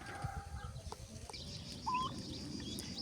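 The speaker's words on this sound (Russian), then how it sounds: "Рядом, как всегда, прогуливаются курочки." Chickens wandering in a Greek home garden, giving soft, sporadic clucks over steady outdoor ambience, with one brief clearer call midway; no talk.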